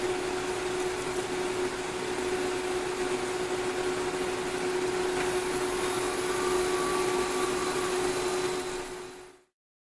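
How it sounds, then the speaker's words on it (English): A G2 refrigerant recharge machine's compressor runs with a loud, steady mechanical hum and a constant whining tone, then cuts off abruptly to silence. "there should be a several second delay, and then the compressor should click on"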